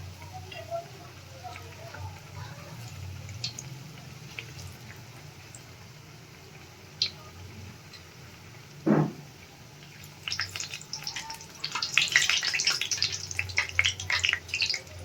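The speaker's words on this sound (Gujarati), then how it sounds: "આને તળાવા દેશું" Bread pakoda frying in a pan over a medium gas flame: faint ticks and one soft thump, then a rising crackly sizzle that grows louder toward the end.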